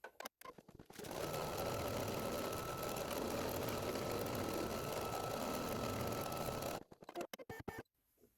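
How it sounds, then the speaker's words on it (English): A Brother NQ1700 embroidery machine stitches a placement line in one long, steady mechanical whir, loud and close, bracketed by a few sharp clicks and clunks before it starts and after it stops. "I'm going to be using a Brother NQ1700 for this tutorial."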